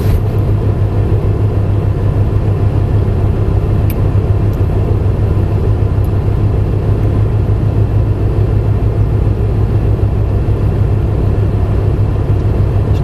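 A Ferrari drives at speed during an exotic driving experience, a loud, continuous engine drone with deep low rumble and road roar, heard from inside the car without pause.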